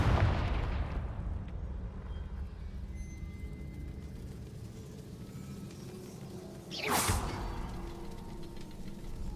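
A Confringo spell blast in the Hogwarts Legacy video game lands as a single sharp explosive burst partway through, rising out of a low rumbling game ambience.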